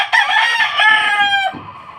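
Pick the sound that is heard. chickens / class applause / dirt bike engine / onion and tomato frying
chickens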